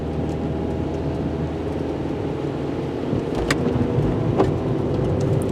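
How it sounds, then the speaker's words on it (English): Rain falls outside in crummy but not very cold weather, a steady, dense wash of patter with a low rumble underneath and occasional sharper drops, with no voices. "I still like the rain no matter what anybody says"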